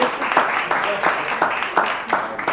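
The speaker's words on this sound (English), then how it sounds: "Clap it up for Matthew." Church audience claps for a minister in bursts of rhythmic clapping, moderately loud, with voices mixed in.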